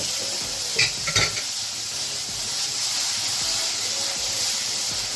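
Chicken pieces dropped into hot oil with mustard paste, a couple of clattering stirs near the start, then a loud, steady hissing sizzle that keeps going.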